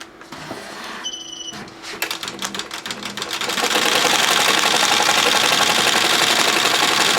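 An embroidery machine starts up and stitches a one-color logo on a carry-on suitcase flap, a few clicks giving way to a loud, steady rapid mechanical chatter.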